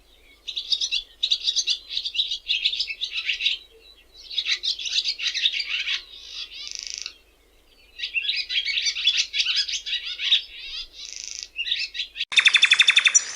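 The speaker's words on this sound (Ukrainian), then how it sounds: "Ластівка." A swallow sings alone in clear, rapid bursts of twittering chirps and trills, several phrases separated by short pauses, close and bright, ending with a harsher buzzy rattle.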